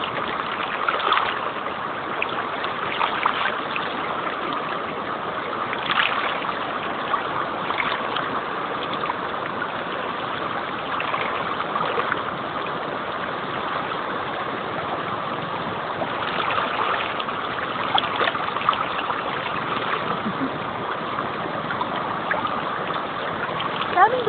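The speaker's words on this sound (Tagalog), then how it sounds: "Kahit malakas yung agos ng tubig." A strong river current flows steadily and loudly throughout, a dense continuous rush of water close by with small splashy accents and no voices heard.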